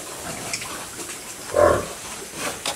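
Farm pigs grunt and snort nearby, one louder grunt standing out midway over a quiet outdoor background with faint scattered noises.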